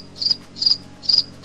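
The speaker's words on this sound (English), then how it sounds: "Crickets? Yeah, it's crickets." Crickets chirp in a steady rhythm, about four high trilling pulses close by against a low background hum.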